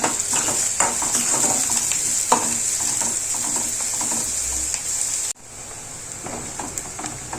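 Onions sizzle steadily in a pan while being fried to a light brown for a Nagpuri Saoji patwadi curry, a loud, close, continuous hiss with occasional stirring clinks and scrapes, briefly dipping partway through.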